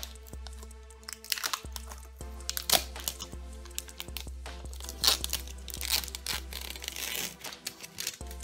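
Grossery Gang toy packaging being torn open and handled, with repeated crinkling, crunching plastic and cardboard sounds in irregular bursts, close and fairly loud, no talking.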